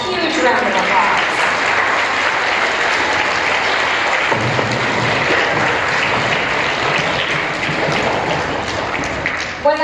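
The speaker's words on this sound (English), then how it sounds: "let's give your Center Elementary staff a huge round of applause" Elementary school students and staff applaud at a welcome-back assembly in a school hall, a loud sustained wash of many hands clapping with cheers, a speaking voice briefly heard at the start before the clapping takes over.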